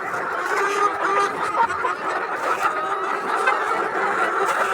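A flock of BV380 laying hens and a rooster clucking and chattering continuously, with a dense, steady layer of overlapping calls at close range.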